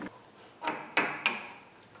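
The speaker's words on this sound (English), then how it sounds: "Let's get a socket and smash it on there." Three sharp metallic knocks come about a third of a second apart as a socket is hammered onto a Jeep Compass part in a home garage. The blows are close and fairly loud, with quiet between them and no talking.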